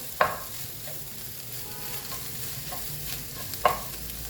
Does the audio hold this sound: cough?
no